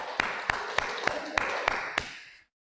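A church congregation applauds in one short, steady burst of clapping, with a few sharp individual claps standing out, before it cuts off abruptly.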